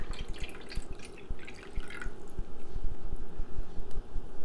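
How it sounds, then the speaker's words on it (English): Water pours and splashes into a metal pot close by, a burbling, irregular stream with small drips and sloshes that grows fuller toward the end. "And I will pour in my water"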